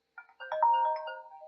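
A phone ringtone sounds for an incoming call during a live broadcast, a short electronic melodic tune played clearly and alone for about a second.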